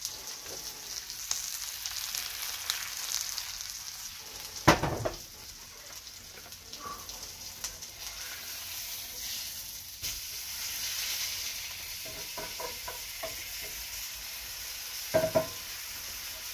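Steak searing in a hot pan for a Cajun surf and turf, a steady close sizzle running throughout, with a few louder scrapes and crackling bursts from the pan along the way.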